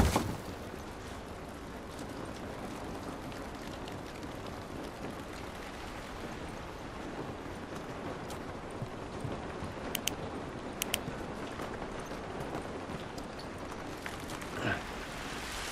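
Rain falls steadily in The Last of Us video game, a dense even patter on surfaces with a few sharper drips and knocks standing out, heard alone without voices.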